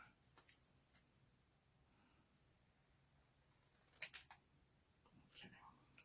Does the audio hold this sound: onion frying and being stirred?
no